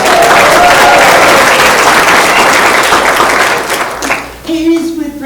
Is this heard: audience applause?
yes